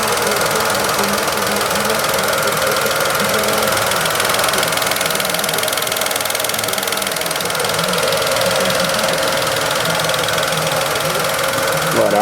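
A Renault Captur engine idles steadily while warming up after a thermostat replacement, a continuous even hum with a light rhythmic ticking that holds constant throughout, close and fairly loud, no talking.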